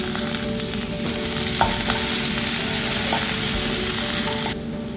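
Ginger, garlic and curry leaves sauté in a hot pan with oil, giving a steady, dense sizzle broken by a few soft stirring clinks before the frying noise drops off near the end.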